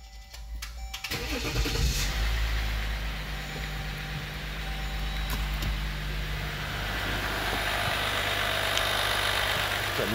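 A 3.0 EcoDiesel engine cranks briefly, then catches and settles into a steady, gravelly diesel idle that stays loud and close throughout, with no voices.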